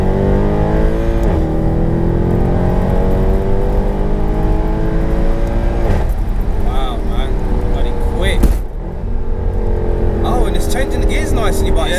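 Tuned 530bhp Mercedes C63 AMG engine revving and accelerating in Sport mode, a loud rising V8 roar with gear-change dips, continuous close-up from inside the car, with voices talking over it.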